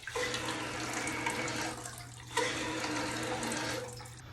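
A toilet with a broken fill valve runs on and on, with water hissing steadily like a tap filling a tank under a constant low hum, and a brief knock partway through.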